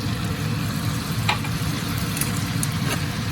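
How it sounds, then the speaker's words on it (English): Stir-fry sauce bubbles hard in a hot pan, a dense, loud, continuous sizzling roar with faint crackles on top and no voices. "Right away it boils."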